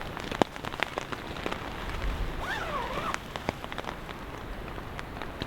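Rain pattering steadily on a camping tarp during a winter storm, with scattered sharper drops standing out against a dense, close wash of patter.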